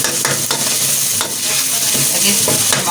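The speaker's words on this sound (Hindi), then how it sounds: "मसाले को भुने को अच्छी तरह से। तकरीबन 5 मिनट तक मसाले को भुने" Masala for baingan bharta fries and is stirred in a pan, a continuous close sizzle with repeated scraping strokes of the spoon and no talking.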